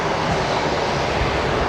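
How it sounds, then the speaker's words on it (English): A China Eastern airliner's jet engines roar during takeoff at Brisbane Airport, a loud, broad, steady rush filling the whole short stretch. "China Eastern's now been cleared for takeoff"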